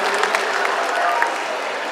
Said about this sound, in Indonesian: Boleh tepuk tangan paling-paling untuk Wardah.